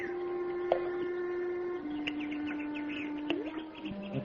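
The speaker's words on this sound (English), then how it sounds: "Birds playing in the fish pond. Look at them. Happy birds." Birds chirping by a fish pond in an old-time radio drama effect, scattered short tweets and whistles over a sustained tonal hum, fairly faint, with no talking.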